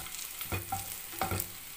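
Onions fry in oil for coriander chutney, a soft sizzle broken by two or three short stirring scrapes in the pan, close and faint, with no voices.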